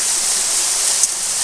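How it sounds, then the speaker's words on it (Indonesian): A steady, hissing rush of falling water, constant and fairly close, with no voices. "itu dia adalah air terjunnya"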